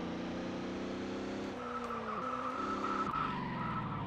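Race car in ToCA World Touring Cars spinning out, engine buzzing then breaking into a loud tire squeal and skid as revs drop and recover, close and continuous.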